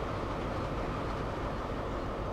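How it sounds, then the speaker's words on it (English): A Class 43 train gets underway on the Great Western Express route in Train Sim World, a steady, close, low rumbling drone with no pauses. "Well, that's the train underway."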